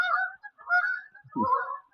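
Geese honk in a loud, nasal chorus, several calls overlapping in quick bursts with short gaps between them.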